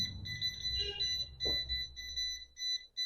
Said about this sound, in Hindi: जो इसकी बीप की आवाज़ हमें सुनाई दे रही है